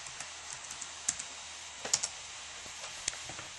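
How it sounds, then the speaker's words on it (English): Keys tapped on a computer keyboard while a Windows password is entered at a login screen: sparse, crisp clicks at an irregular pace, with a few louder strokes, heard close and alone. "you're going to have to type in your password this time"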